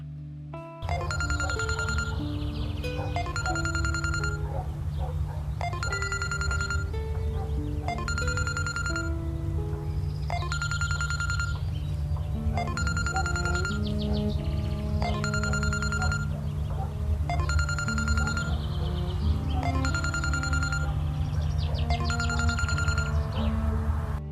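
A telephone rings repeatedly in an even rhythm, about eight rings in a row, over a steady low hum, with no one picking up.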